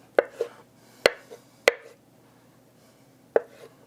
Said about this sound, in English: But just go ahead and chop them all up